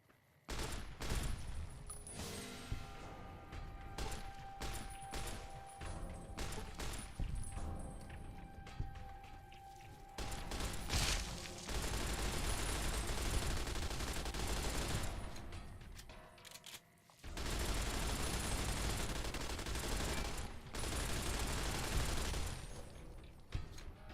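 Gunfire in the video game Fallout: New Vegas, with dense rapid bursts of shots, some long sustained volleys and shorter crackling stretches, loud and continuous.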